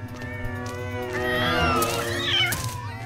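Several animated cats meow and caterwaul in a cartoon, overlapping close, loud wails and rising mews over about three seconds.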